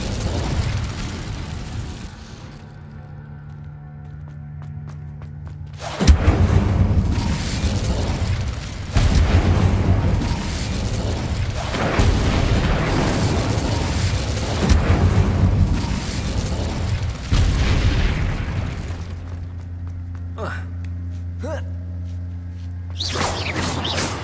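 Incendio fire spells cast repeatedly in Hogwarts Legacy, heard as loud bursts and whooshing booms that fill most of the stretch over a game score, with quieter music before and after.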